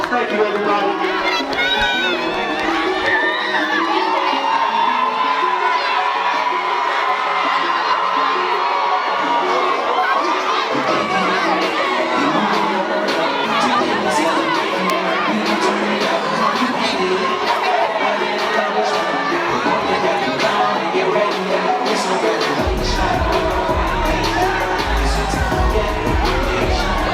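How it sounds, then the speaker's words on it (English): Large crowd at a high school graduation ceremony cheers, whoops and applauds the graduates, a dense, sustained roar of clapping and shouting that fills the whole stretch without letting up. "give one last round of applause to the graduates"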